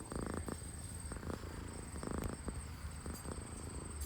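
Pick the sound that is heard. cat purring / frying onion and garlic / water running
cat purring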